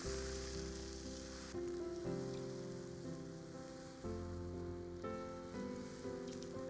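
Ghevar batter fries in ghee with a soft, continuous crackling sizzle like rain on a surface, fairly faint, under a layer of tonal background music that shifts between chords; nobody talks.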